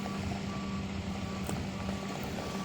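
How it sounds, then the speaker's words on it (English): A Jefferson County grapple truck at a landfill sounds a steady, continuous reversing beep that stands out against constant engine and outdoor noise, heard from a moderate distance. "Jefferson County grapple truck pulling in."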